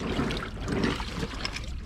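Water trickles steadily out of a small opened drain plug down in a creek beneath a demolished mill, a close, continuous light splashing and gurgling with no voices.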